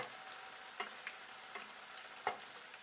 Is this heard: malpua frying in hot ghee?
yes